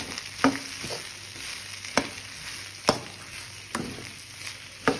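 Okra being stirred with salt in a pan at home, a spoon scraping in sharp, evenly spaced strokes about once a second over a faint sizzle, close and fairly quiet with no talk.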